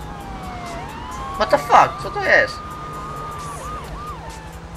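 A police siren from the video game GTA III wails steadily with rising and falling tones, fairly loud over game ambience, while a man exclaims briefly in English and Polish partway through.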